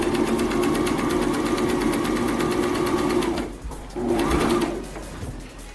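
A sewing machine stitches small pillows for a doll's sofa with a close, loud, steady rapid whirring. It stops briefly, runs again for a short burst and then ends.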